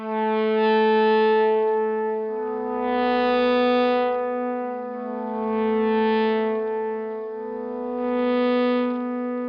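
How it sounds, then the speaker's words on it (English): Electric guitar with a sustainer engaged on the bridge pickup: long, steadily held notes that swell repeatedly over a low droning bed, close and loud throughout with no voices. "or I switch over to the sustainer, which automatically engages the bridge pickup"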